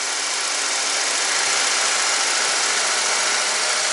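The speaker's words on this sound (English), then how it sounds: "Idling smooth," A Toyota Corolla AE92 4A-FE engine idles steadily and smoothly up close without misfire, a continuous even rumble with no breaks or voices.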